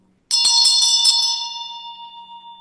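A small handheld bell struck indoors during a feng shui space-clearing, giving several quick close strikes followed by a long, clear ringing tone that slowly fades.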